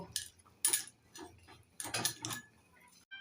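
A spoon stirs fish curry in a pan in light, clinking bursts, a few scraping taps and knocks spread across the moment at close range, with no talking.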